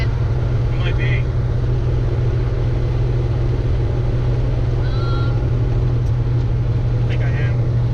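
A big-turbo BMW 335i car runs with a loud, constant low engine drone, while people talk inside the cabin over it.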